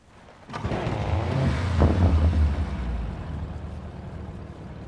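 A vehicle engine in PUBG starts up and runs with a low, steady rumble, moderately loud and unbroken for several seconds. It is heard alone with no talk.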